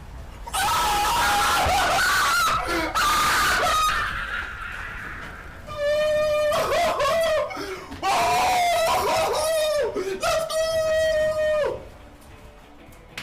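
A fan screams loudly and repeatedly at home after opening a FIFA 22 card of Messi, piercing high-pitched shrieks in several long bursts with short breaks between them.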